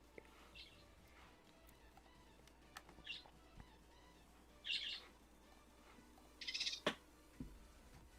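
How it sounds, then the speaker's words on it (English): Birds chirp quietly in the background, with a few faint, brief calls scattered over a low, steady room hum. "Birds are chirping."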